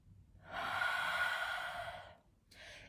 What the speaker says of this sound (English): this Ujjayi breathing you use during any yoga exercises